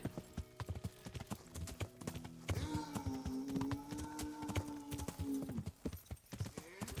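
Horse hooves clip-clop in a steady, brisk rhythm of sharp knocks in the medieval game Kingdom Come: Deliverance, accompanied by a sustained tonal drone in the middle stretch.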